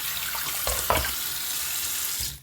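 Water drains off rinsed beans in a colander in a kitchen, a short, steady rushing splash with a few louder spatters, close by, fading out at the end.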